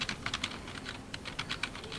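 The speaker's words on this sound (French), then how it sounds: "c'est normal que j'entends ton clavier" Rapid typing on a computer keyboard, a faint, uneven patter of soft clicks bunched in short bursts, heard alone without talking.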